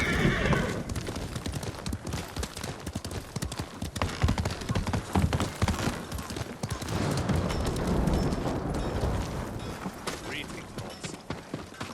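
Steady clip-clop of horse hooves trotting up close in the video game Ghost of Tsushima, with a horse whinnying and a voice talking over the rhythmic footfalls.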